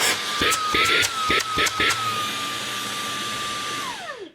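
A Karcher KAV2 handheld vacuum cleaner runs with a steady high motor whine, several clunks and bumps early on, then winds down and stops near the end.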